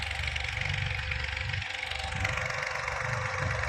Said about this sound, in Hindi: ट्रैक्टर के ऊपर मशीनें रखी हुई है, इंजन रखे हुए हैं, और इन मोटे पाइपों के माध्यम से ये देखिए कितने पाइप एक साथ, कितने ट्रैक्टर एक साथ चल रहे हैं